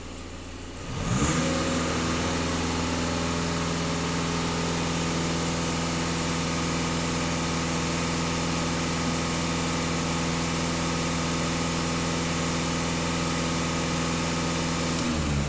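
An Audi EA288 diesel engine, recently through a particulate filter regeneration, starts up and settles into a steady, even drone with a constant low hum and no audible rise in revs.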